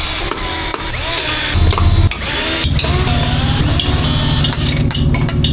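A cordless battery drill whirs steadily at close range, its motor pitch shifting as it bites in, with occasional clinks of metal over the continuous drone.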